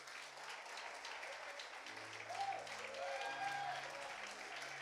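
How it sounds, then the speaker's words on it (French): An audience in a French church service applauds and cheers, a steady, fairly faint wash of clapping with a few voices calling out over it. "Est-ce qu'on peut l'acclamer?"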